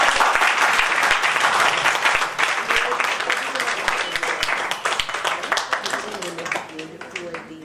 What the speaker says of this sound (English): Please give them again a big round of applause.